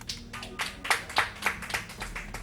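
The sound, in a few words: clapping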